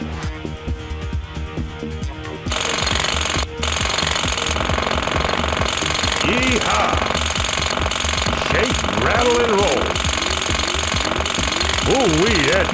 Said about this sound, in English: Hold down the mouse button to run the jackhammer.